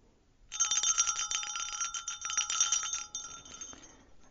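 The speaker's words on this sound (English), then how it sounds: "with the ring of a bell," A small bell rings rapidly and continuously for about three seconds, bright and metallic like a bicycle bell, then fades out; heard alone with no talking.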